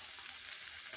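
An egg fries in a pan as a soft, steady hiss of sizzling, quiet and brief, with no voices.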